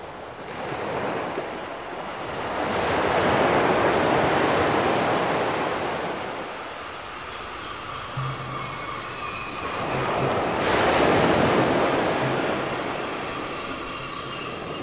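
Ocean surf at a beach, with two big waves swelling and crashing in slow rolling surges, a constant wash of foam and spray filling the gaps between them.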